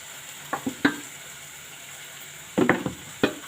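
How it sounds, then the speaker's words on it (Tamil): Chili powder and coriander powder sautéing in oil for a prawn gravy, faint sizzling under a few sharp scrapes and stirring knocks of a spoon against the pan, close and sparse. "இது கொஞ்சம் தனியாவும் போட்டு ரெண்டையும் நல்லா எண்ணெயில் வதக்கணும்."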